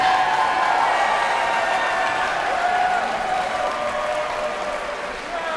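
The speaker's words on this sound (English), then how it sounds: "Let's have a big round of applause" Sustained crowd applause with some cheering, loud and continuous, tapering slightly toward the end, at a mixed martial arts championship event after a five-round flyweight title fight.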